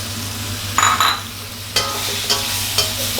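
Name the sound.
stir-frying shrimp and shiitake mushrooms with scallions in a pan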